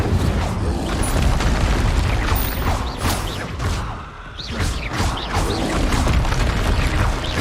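Spell effects from Hogwarts Legacy, with Confringo blasts and Incendio fire crashing and booming over dense mechanical clatter and crackle, loud and continuous with a brief dip midway.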